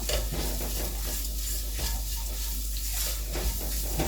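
Ground spices and black pepper powder frying in a pan for chicken tikka masala, a dense, close sizzle with scraping stir strokes repeating throughout.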